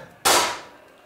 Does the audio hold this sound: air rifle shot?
yes